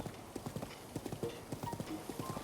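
Horse hooves clip-clop in a steady, brisk rhythm inside a video game, close and distinct against a faint background hum, with no voices.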